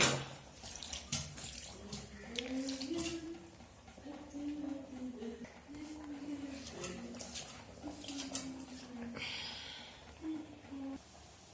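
A kitchen tap runs steadily in a soft, continuous splash for washing, while a voice talks over it and faint birds can be heard in the background.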